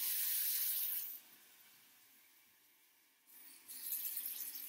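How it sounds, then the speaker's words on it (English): Water runs from a sink faucet for handwashing, a bright steady hiss that dies away to near quiet, then gushes again as the tap flows once more. "First, we are going to turn on the water."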